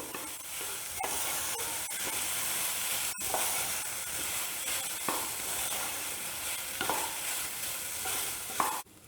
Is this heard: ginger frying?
yes